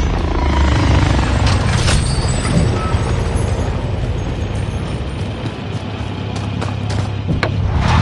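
An attack helicopter in a video game, heard as a loud, steady low-pitched rotor and engine roar that runs unbroken through the whole stretch, with scattered mechanical clanks and brief higher tones over it.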